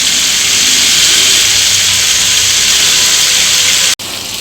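Chicken tikka frying in a mix of oil and butter gives a loud, steady, close hiss that holds for about four seconds, then cuts off abruptly and returns slightly quieter, with no voices.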